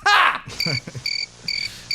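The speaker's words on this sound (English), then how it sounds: "Just crickets underneath us the whole time." Crickets chirp as a sound effect in quick repeated bursts of bright, pulsing trills, close and clear, following a short burst of louder noise at the start.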